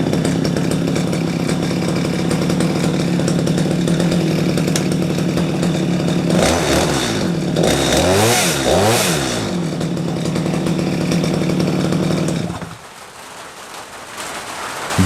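A STIHL MS 250 chainsaw, just repaired after a no-spark fault, runs steadily near at idle, blips its throttle in a few quick revving bursts around the middle, then cuts out at the end.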